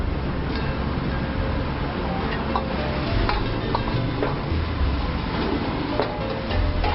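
Chopped onion frying in sesame oil gives a steady, close sizzle throughout, broken by occasional light clinks and scrapes of stirring.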